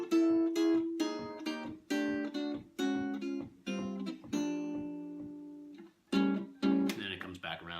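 Electric guitar plays a chromatic chord walk-down at tempo in an arrangement, a run of sharp, rhythmic strummed chords that descend and then ring out, close and alone with no talking.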